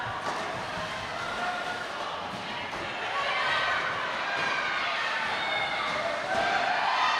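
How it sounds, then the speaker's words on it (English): A roller derby crowd at a Los Angeles Derby Dolls bout, Sirens against Tough Cookies, whoops and cheers in a steady, moderately distant roar with a rise in the second half, under faint arena noise. "I'm hearing some hearty whoop whoops from the crowd, cheering those Sirens on"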